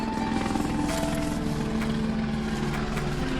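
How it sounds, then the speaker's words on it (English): A helicopter's steady rotor thump and engine drone fill the air overhead, continuous and fairly loud with no talking. "There's a helicopter above me."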